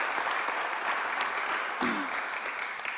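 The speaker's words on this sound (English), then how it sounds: "Let's give them all a strong round of applause." Steady applause from an audience honoring clergy, dense and continuous throughout, a voice briefly rising over the clapping near the middle.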